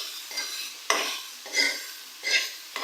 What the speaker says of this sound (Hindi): कीमे को हम लोग मसाले के साथ अच्छी तरह से भूनेंगे।